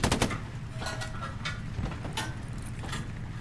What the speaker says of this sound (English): Oh, is that a shot that came into us?